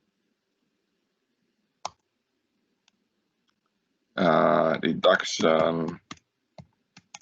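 Computer keyboard and mouse clicks, a few isolated sharp taps spread out, then a spoken word, followed by more sparse clicks near the end; close and crisp in an otherwise quiet room.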